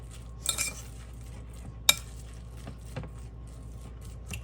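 Half a teaspoon of complete seasoning being mixed into vegetables with a utensil: quiet scraping and clinking strokes, with a sharp tap near the middle, close by and alone.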